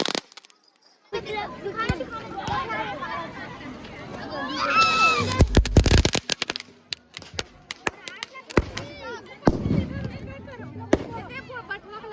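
Firecrackers burst during an evening village festival celebration, sharp bangs and crackling clusters scattered through the clip, some loud and close, others farther off, while people talk and call out throughout.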